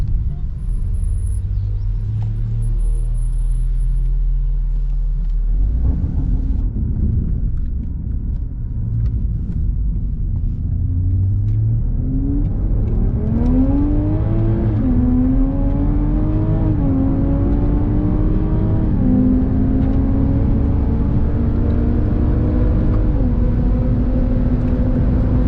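A tuned 500+ hp Toyota Supra, fitted with an aftermarket downpipe, drones loudly from inside the cabin while lapping the Nürburgring. The engine note rises through the gears in repeated climbs, under occasional conversation.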